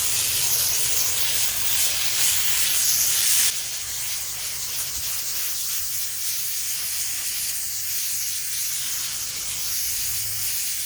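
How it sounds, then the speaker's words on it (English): Web Pro coil cleaner sprayed onto an old 15-year-old air conditioner coil, a steady close hiss of aerosol spray that is louder for the first few seconds, then continues as a softer, even spray. "Let's spray it on and let's see."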